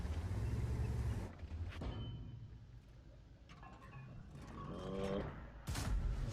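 Heavy tank cannon firing in World of Tanks, a sharp loud blast at the start and another at the end, with engine rumble, mechanical clanks and reload clicks between shots.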